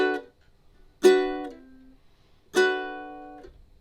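Ukulele chords strummed three times and sustained, then choked off as the fretting fingers release pressure on the strings; near, isolated strums separated by short silences.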